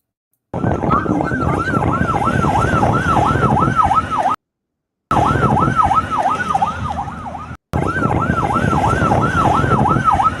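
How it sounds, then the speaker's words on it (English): Loud, continuous wailing ambulance siren in Drawson District, rising and falling in quick regular sweeps, cut by two short silent gaps. "Now you see the ambulance? Ambulance is running now in Drawson District."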